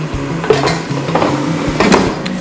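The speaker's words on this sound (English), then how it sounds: "I'm just putting the whole half block of tofu in" Half a block of tofu pieces dropped into an air fryer basket, giving a series of light clinks and taps against the metal basket, close and fairly loud with no talk over it.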